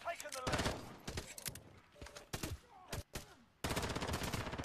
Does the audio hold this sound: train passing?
no